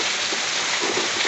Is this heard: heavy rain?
yes